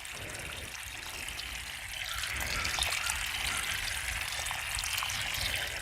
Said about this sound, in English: just kind of fill this up, kind of gently, making sure that the water kind of percolates through.